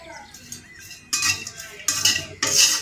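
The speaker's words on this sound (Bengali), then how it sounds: "এখন একটু আমি খালি খোলায় টেলে নেব তেল ছাড়া।" Dried fish dry-roasted in an empty pan without oil, a few bursts of metallic scraping and clinking as the pieces are stirred, separated by quieter gaps.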